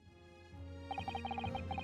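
Venus special firework from Great Ace Attorney 2 going off as a rapid string of bright crackling pops over a low rumble, starting softly then bursting into a quick repeating rattle near the listener.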